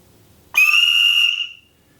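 A single whistle blown at moderate strength sounds one clear, steady, shrill tone lasting about a second before stopping, alone after a quiet start.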